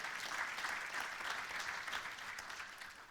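Steady audience applause fills a presentation hall at a business breakfast, dense and even throughout with no voices rising above it.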